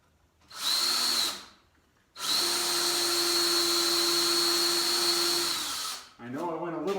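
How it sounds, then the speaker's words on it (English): A power drill with a countersink bit bores into wood. It whines in a short burst, then in a longer steady run of about four seconds. A brief voice follows at the very end. "let's do that recess thing again. I mean the countersink bit."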